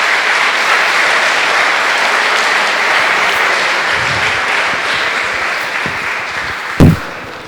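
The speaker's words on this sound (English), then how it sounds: "So please applause to them." Applause fills a closing ceremony hall for an engineering competition final, a dense, steady roar of many hands clapping that continues throughout, with a brief louder knock near the end and no talking over it.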